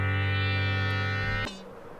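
A Minecraft Bedrock add-on item cooldown burning out as a sustained buzzing, harmonic tone that holds for about a second and a half, then cuts off abruptly into a faint tail.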